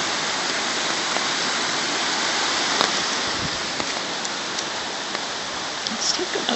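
San Geronimo Creek roars in full spate at a five-year flood peak, its dense, steady rushing water filling the scene at close range and loud, with a few faint knocks and splashes under the torrent.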